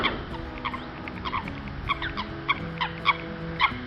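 Coot calling on a lake, a series of short sharp calls repeating irregularly at moderate distance over steady outdoor ambience, with other waterfowl nearby.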